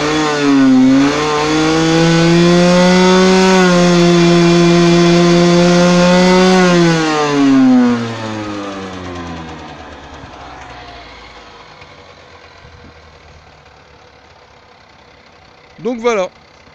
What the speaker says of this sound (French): maintenant je vais vous faire écouter une petite accélération